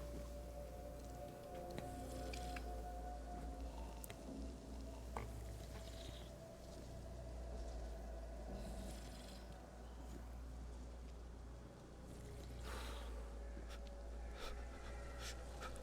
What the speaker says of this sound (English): my guy can not only make cold noises while he's drinking water